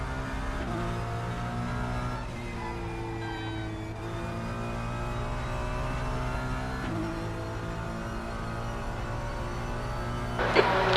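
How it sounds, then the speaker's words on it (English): A race car engine in the RaceRoom sim game drones steadily at high revs for several seconds, shifting pitch a couple of times with no talk over it. "You guys want me to turn the engine sound back up"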